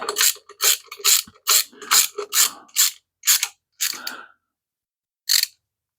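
A socket ratchet tightening bolts during a 5.7 Hemi engine build, about ten quick bursts of close, crisp clicking strokes in a steady rhythm, then a pause and one last short burst.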